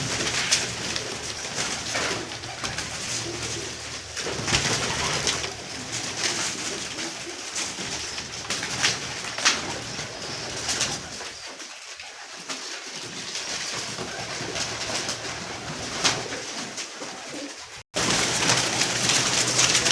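Pigeons coo repeatedly and close by, a continuous soft throaty chorus over broad background noise, with no talking.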